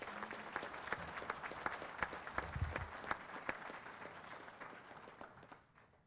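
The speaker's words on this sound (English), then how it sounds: "Please join me in giving a warm round of applause for our speaker of the hour" Warm applause from the audience at a Winston-Salem BLET Class 73 graduation, with dense steady clapping that fades gradually toward the end.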